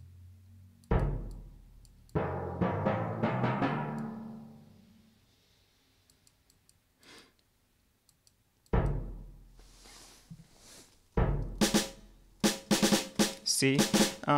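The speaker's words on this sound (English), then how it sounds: "See, it has many instruments from the orchestra, from the orchestra session." Orchestral instruments from the Mixcraft Orchestral Kit virtual instrument play a run of sustained, decaying notes, then a pause and a cluster of sharp percussive hits near the end. No one talks over it.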